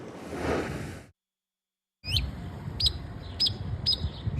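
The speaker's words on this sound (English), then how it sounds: "more people will start hanging up bird feeders to welcome returning songbirds" Songbirds returning in spring chirp in short bright calls, a few distinct notes spaced about half a second apart over a low outdoor rumble, after a brief silence.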